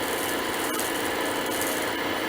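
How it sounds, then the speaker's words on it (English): A turning tool makes a shear scrape on wood spinning on a lathe, leveling a chucking point: a short, continuous, harsh rasping sound, close and steady throughout. "Bit of a shear scrape there just to level off, to get my chucking point on."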